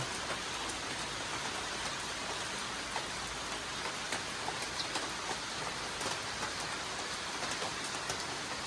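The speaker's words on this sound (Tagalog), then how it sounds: "Dito po tayo na abutan ng ulan." Steady rain falls continuously on a farm, a dense even hiss of drops on surfaces with scattered sharper patters, no voices.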